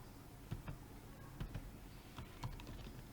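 Keys on a computer keyboard are tapped in short bursts of soft, close clicks over a steady background hum, with brief pauses between the clusters and no talking.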